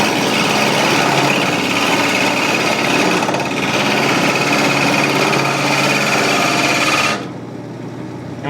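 Wood turning tool cutting a spinning wooden top on a lathe, a loud continuous whirring and chattering grind held steady for several seconds before easing off near the end.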